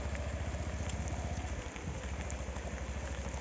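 Rain falls steadily on a village road, a constant hiss of drops close by with a faint low engine-like rumble beneath, no voices.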